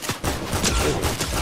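Rapid bursts of video game gunfire crackle close and loud in a quick volley, with no talking.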